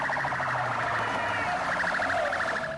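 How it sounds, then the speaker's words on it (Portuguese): A police car siren wails with a fast, repeating warble, loud and steady throughout with no pauses. "A viatura da polícia está chegando."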